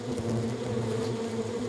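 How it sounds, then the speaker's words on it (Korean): A constant close drone of hornets swarming at their nest on the eaves of a three-storey school building, unbroken buzzing throughout with no one speaking. "3층 높이의 학교 건물 처마에도 말벌이 자리를 잡았다."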